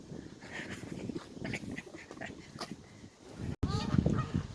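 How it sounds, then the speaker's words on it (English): Geese beside the Grand Union Canal, Northampton Arm, honking in a loose, overlapping series of calls, fairly close and moderately loud, with a short break near the end before more honks. "we've got 6 geese laying"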